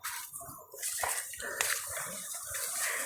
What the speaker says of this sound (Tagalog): maririnig na po namin yung tunog ng falls